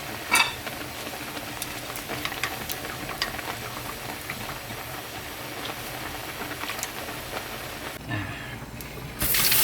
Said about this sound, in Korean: 메밀을 삶아가지고 이제